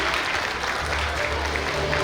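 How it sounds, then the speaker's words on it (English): A school annual function audience applauds award-winning students in a steady, continuous wash of clapping that fills the hall without a break. "Please clap for them."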